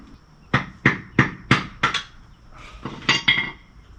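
A series of sharp hard knocks as a small cement pot is chipped at, about eight strikes in uneven rhythm, close and fairly loud with short pauses.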